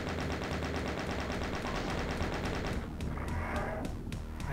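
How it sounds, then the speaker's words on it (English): Rapid bursts of video game gunfire during a boss fight in Mephisto's Mausoleum, a steady dense rattle that thins into sharper separated shots near the end, with no talk. "Keep firing till he falls"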